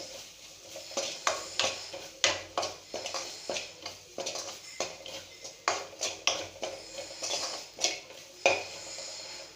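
Chilli and turmeric powder stirred in a pan on low flame, a spoon scraping and clinking against the metal in an irregular run of sharp taps and scrapes, close and alone.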